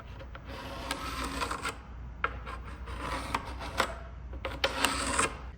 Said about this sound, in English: and I'm just gonna trace this.